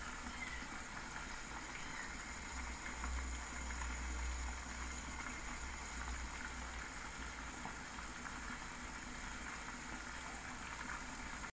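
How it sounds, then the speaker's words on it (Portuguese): Tomato-style sauce poured over beef steak simmering in a pan on the stove, a steady low bubbling and hiss that continues evenly throughout without talk. "Agora é só deixar ferver um pouquinho"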